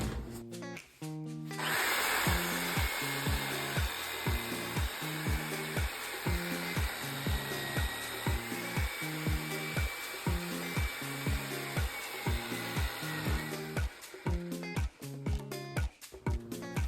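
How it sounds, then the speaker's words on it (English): Reciprocating saw running almost continuously, cutting the neck off a 42 lb lamb carcass with a steady loud motor buzz and rhythmic stroking, stopping briefly near the start and again near the end. "all I'm using is knife, reciprocating saw. So, first thing I takes off is the neck"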